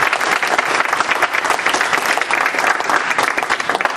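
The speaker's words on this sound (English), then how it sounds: "ask everybody to join in a round of applause for our wonderful panel" An audience applauds a panel at a Foreign Service association event, dense continuous clapping that stays loud and even for the whole stretch, with no speech over it.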